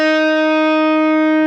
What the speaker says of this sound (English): I've written very small bend down, so it sounds like this.